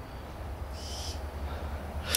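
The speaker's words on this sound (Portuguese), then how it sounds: "Escuta, escuta essa coruja." A faint owl call rises briefly out of steady low background noise outdoors, soft and distant, with no talking.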